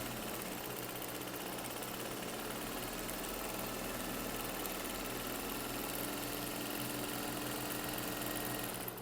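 A sewing machine stitches a seam on a bathroom set, a steady, faint mechanical hum and rapid needle chatter running evenly and continuously with no pauses or voices.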